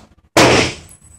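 A single loud, sharp report from an M6AZ full-auto rifle on a shooting range, sudden and close, ringing out briefly with no follow-up burst.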